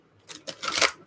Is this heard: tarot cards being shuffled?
yes